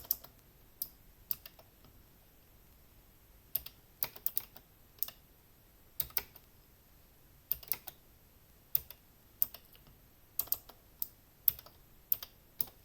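Typing a bash for loop on a computer keyboard: sharp key clicks come in scattered bursts and short runs, close and fairly crisp, with pauses between groups and no talking.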